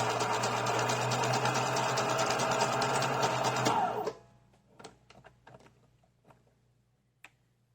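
A Husqvarna Viking 2000 sewing machine stitches through leather with a steady, close, whirring mechanical hum for about four seconds, then stops, leaving a few soft clicks and taps.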